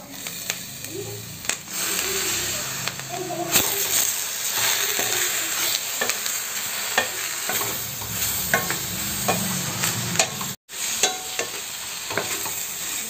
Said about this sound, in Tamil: தூதுவளை பச்சை வாசனை போகிற அளவுக்கு நம்ம வதக்கிக்கலாம்.